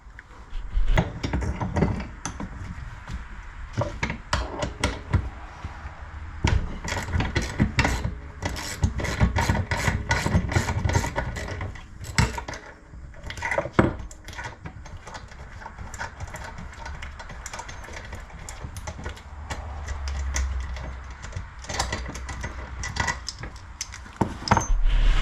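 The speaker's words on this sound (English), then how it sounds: "So I'm going to put this wheel on this one." A wheel being fitted onto a belt tensioner on a 1991 Dodge Dakota with a 5.2L V8 318, heard as close, loud metallic clanks, scrapes and taps, clustered and irregular, with brief pauses and no talking.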